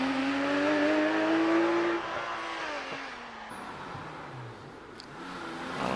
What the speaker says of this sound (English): we switch to Richard York in the 997 GT3 Porsche